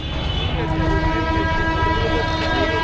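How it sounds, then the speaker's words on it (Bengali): A local train rolls past at Dakshineswar station with a loud, continuous rumble and a sustained horn tone, close by and steady. "ওই শোনা যাচ্ছে লোকাল ট্রেনের আওয়াজ।"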